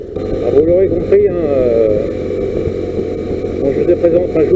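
A BMW R1150RT motorcycle engine idling nearby, a steady low mechanical hum running throughout while someone talks over it.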